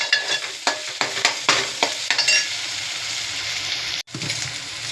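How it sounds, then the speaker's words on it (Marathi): Ginger-garlic paste and spices are stirred in hot oil, giving a loud continuous sizzle broken by rhythmic scraping strokes of a spoon against the pan, heard up close. "अद्रक लसूणची पेस्ट टाकलेली आहे एक चम्मच आहे अद्रक लसूणची पेस्ट चांगलं मिक्स करून घ्या"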